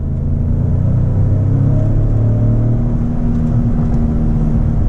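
A Lincoln Navigator Black Label pulls at full throttle, a steady loud low engine drone and rumble with a gradually rising tone holding throughout, heard from inside the cabin with no talk.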